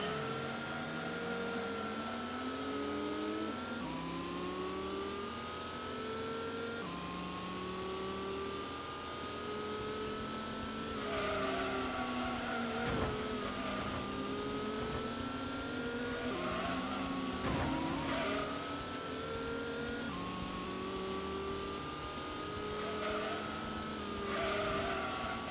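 Racing car engines from the Gran Turismo video game in a tuned car cup race, with sustained revving that climbs and drops through gear changes and overlapping engine tones from nearby cars, loud and continuous throughout.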